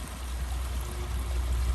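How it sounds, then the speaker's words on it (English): A mountain stream pours down along a hiking trail, a steady, fairly loud rushing hiss of water with no other sound. "Now look at that water source."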